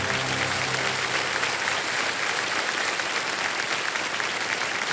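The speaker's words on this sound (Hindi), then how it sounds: "ताली बजते रहे।" Dense, steady applause from a game-show studio audience on KBC season 17, filling the full stretch at even loudness with no talk over it.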